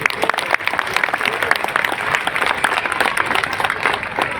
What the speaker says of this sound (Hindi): अगर आप सहमत हैं तो बहुत तेज ताली आपकी बजनी चाहिए।